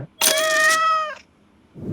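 A pet cat meows once, a clear, drawn-out tonal call at close range inside a cat café, followed by a brief pause and a faint rustle.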